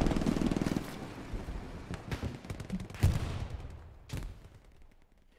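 Gunfire in the video game Biomutant rattles out in rapid bursts of sharp shots, close and loud, followed by a few spaced single cracks as the firing thins out.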